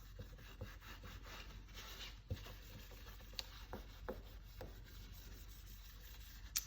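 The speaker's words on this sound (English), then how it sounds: "I'm just gonna wipe this off." A paper towel rubs wet craft ink off a stamped surface in soft, close, scratchy strokes with a few light taps, heard alone and quietly.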